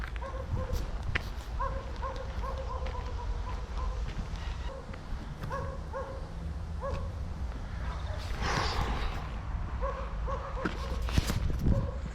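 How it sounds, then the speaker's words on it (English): Dogs bark in repeated short bursts from a distance in an isolated part of a Spanish slum, the barking fairly faint against steady outdoor background noise. "Dogs barking."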